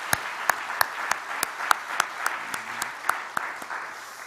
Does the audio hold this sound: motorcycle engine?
no